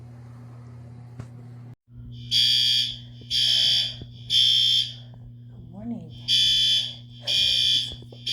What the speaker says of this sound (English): an alarm is going off in my building